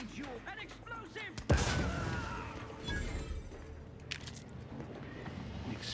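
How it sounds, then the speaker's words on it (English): Explosions and gunfire in the video game The Outer Worlds 2: a sharp, loud blast followed by a rumbling tail, then scattered crackling bursts of weapon fire. "Explosions."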